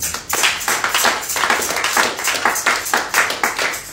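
A church congregation clapping together to acclaim the Lord, loud steady rhythmic claps from many hands filling the room, with no speech over them.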